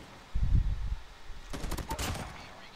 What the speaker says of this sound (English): Your sniper's no match for an automatic rifle.